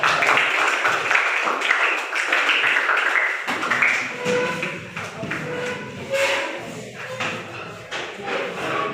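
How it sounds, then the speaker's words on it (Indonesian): Students in a classroom clap after a group presentation, a burst of many hands in the first few seconds that thins into scattered taps and room noise with faint voices. "Ya, tepuk tangan."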